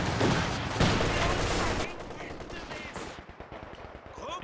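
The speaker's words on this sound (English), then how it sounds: "we've got a second machine gun back there" Machine gun fire in a Company of Heroes 2 match, rapid bursts of close, loud shots in the first two seconds, then scattered quieter distant firing and battle noise.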